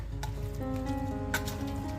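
Leftover egg curry reheating in a pan gives a soft, steady sizzle with faint crackles and pops over about two seconds, with no talking.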